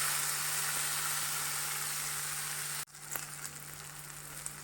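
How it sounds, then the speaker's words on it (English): Tomatoes sautéing in a pan for vegetable pulao give a steady, bright sizzle that drops suddenly partway through and continues more quietly with light crackles; close, with no speech. "Now I will add tomatoes and let it saute for a while,"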